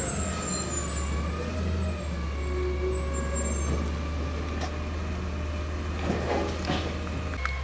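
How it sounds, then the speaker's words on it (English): A recycling or yard-waste collection truck rumbles past nearby with a deep, steady engine drone, and some brief hissing and clanking sounds rise over it toward the end. "The recycle or the yard waste collection truck came by."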